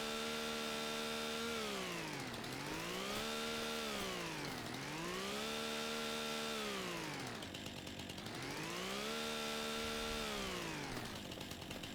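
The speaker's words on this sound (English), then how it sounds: "I like having a chainsaw that can do this." A chainsaw cutting wood in the video game Farming Simulator 25 revs up and down in a steady repeating cycle, a loud buzzing whine that rises and falls about every two seconds, with no talk.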